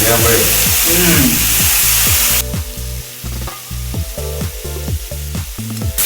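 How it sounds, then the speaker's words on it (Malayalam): Chicken pieces browning in a hot pan for a European-style chicken stew, a steady loud sizzle that abruptly quiets partway through, with repeated rhythmic low thumps or stirring knocks throughout. "അപ്പോൾ അത് മറിച്ചിടുക ദെൻ മറ്റേ സൈഡും ഒരു സ്ലൈറ്റ്ലി ബ്രൗൺ ആക്കുക"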